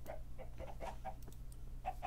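Minecraft chickens clucking in Block Hunt, a string of short soft clucks and chirps repeating irregularly over a low steady background hum, faint and alone with no voices.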